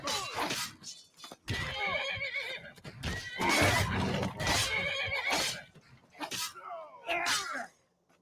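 A horse in the video game Skyrim neighs and whinnies loudly several times in bursts, with snorts between, close and prominent.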